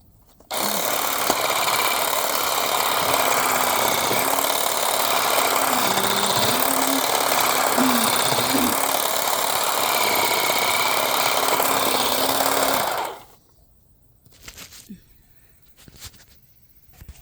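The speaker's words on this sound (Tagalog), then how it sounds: "Ito siya yung machine cutter siya." A motorized yard cutting machine runs in a yard in Hawaii, its engine a loud steady drone for about twelve seconds with small pitch wobbles, then it cuts out abruptly, leaving quiet handling noises.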